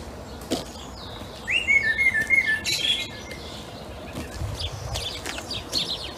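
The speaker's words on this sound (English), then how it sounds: "Very vocal blackbird up in this plane tree." A blackbird sings up in a plane tree, its fluty whistled phrases clear in the middle of the clip, with other birds chirping and a sparrow flock busy in the background.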